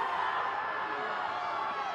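Busloads of supporters from Alton make a continuous, moderately distant crowd roar at a 2019 IHSA 1A high school soccer final, with no distinct bursts of cheering.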